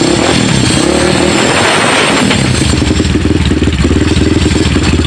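A repaired motorcycle engine runs steadily at a fast idle, a loud, close, rattling mechanical drone with clattering ticks, alone without talk.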